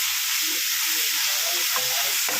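Egg curry with tamarind leaves sizzling in a pan: a loud, steady hiss of frying oil with soft bubbling pops and a light stir close by, with no talking.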